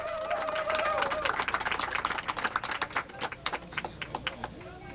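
Crowd at a candlepin bowling match applauding, a dense patter of claps that thins into scattered individual claps, with faint voices underneath.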